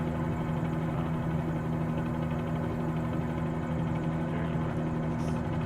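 The engine of an Icon A5 light amphibious aircraft in Microsoft Flight Simulator 2020 hums steadily with a constant droning, vibrating tone and no variation, heard alone.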